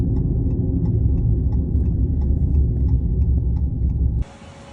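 A car's engine rumbles steadily at close range on the road, a low continuous drone with faint periodic ticks, before the sound abruptly changes near the end.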